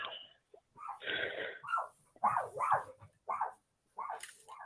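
A dog in a basement, heard faintly and at a distance, gives a series of short barks and yelps with wheezy, breathy gaps between them, uneven in rhythm over several seconds.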